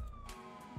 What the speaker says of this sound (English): All right, ambulance.